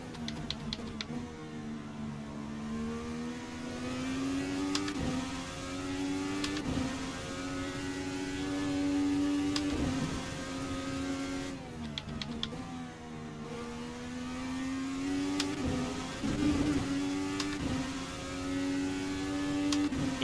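An IndyCar engine racing at Road America in the video game Assetto Corsa: a sustained, whiny engine tone rising and falling through gear shifts, with sharp clicks at intervals, steady and fairly prominent, no talk.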